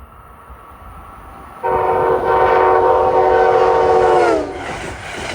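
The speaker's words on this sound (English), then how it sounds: "That's a cab car on train 653 and right from New York to Harrisburg." Train 653, an electric line run from New York to Harrisburg, goes by with a cab car leading: a loud horn blast of steady stacked tones that holds for about three seconds before fading, over a low rumble of rolling cars.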